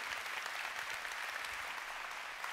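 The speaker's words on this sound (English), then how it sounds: "Big round of applause to Allison." Steady, dense applause from a large keynote audience at a 2018 customer success industry conference, continuous and even throughout with no talk over it.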